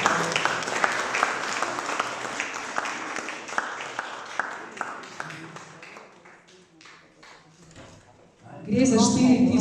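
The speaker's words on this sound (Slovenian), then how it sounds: "Pa kar zaploskajte." Audience applause at a Slovenian book presentation event, a dense burst of many hands clapping that gradually thins out and fades over several seconds before voices and louder activity resume at the end.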